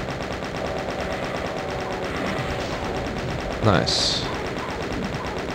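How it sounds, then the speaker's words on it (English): Rapid chaingun fire in the Voxel Doom 2 first-person shooter, a steady dense rattle of shots running throughout with a brief sharp burst near the end, while a voice speaks over it. "And then I want to chain gun the rest."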